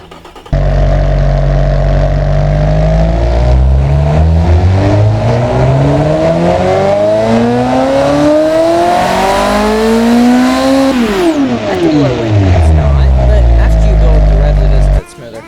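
A custom drag racing engine in the car tycoon game Automation revs loudly and continuously, climbing steadily in pitch for about ten seconds before dropping back down and cutting off.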